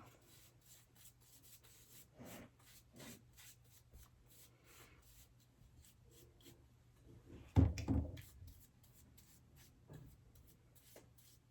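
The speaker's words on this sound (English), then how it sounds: "I'm going to sand back the edges a little bit." Sandpaper rubbing along the edges of a painted wooden block, soft repeated scratchy strokes with a brief louder scrape partway through, close and quiet with no talking.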